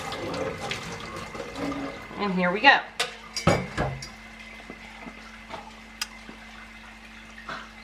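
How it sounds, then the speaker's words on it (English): Water poured out of a container holding a cooled, solidified disc of harvested beeswax, a splashy close pour lasting a couple of seconds with clattering knocks of the vessel, following brief speech. "We're going to pour the water out,"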